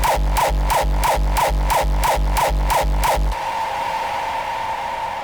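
A fast run of hard, punchy synthesized hardcore kick drum hits in steady rhythm, followed by a lingering distorted, noisy tail once the hits stop.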